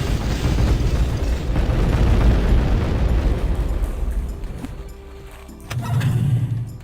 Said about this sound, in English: There's one spot in this whole room where you're safe from the explosions